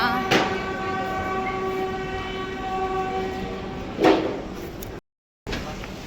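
A train at a railway station sounds a loud, sustained horn over the steady rumble of the cars, with two sharper bursts of noise and a brief drop to silence near the end.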